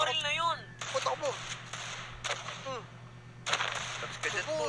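Guns fire in a city zombie-survival video game, sharp cracks scattered among a player's excited speech and bursts of game music or effects.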